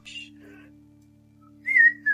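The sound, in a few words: person whistling imitating a phone notification sound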